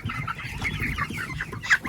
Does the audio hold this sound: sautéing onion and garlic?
no